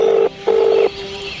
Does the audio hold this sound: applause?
no